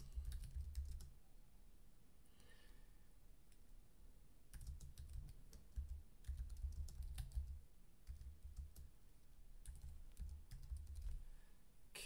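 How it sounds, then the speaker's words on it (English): Quiet typing on a computer keyboard, short clusters of soft key taps spread across several seconds with pauses between bursts, and no voices. "Let me type one up."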